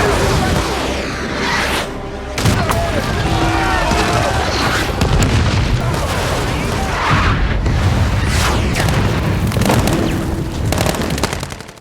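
Rocket artillery fire and explosions sound in a war scene, with a continuous loud rumble of booms and crackling gunfire-like bursts and sharp impacts layered over one another, and a voice heard faintly beneath the barrage.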